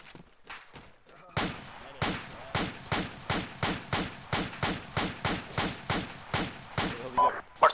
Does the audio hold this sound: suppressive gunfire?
yes